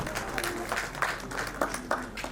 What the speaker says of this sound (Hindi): मैं चाहता हूं कि जोरदार तालियों से आप सहयोग प्रदान करें